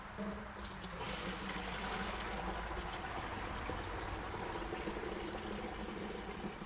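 Liquid pouring steadily into a container while rendering beeswax outdoors, a continuous splashing, gurgling stream heard close and fairly quiet, unbroken throughout with no voices.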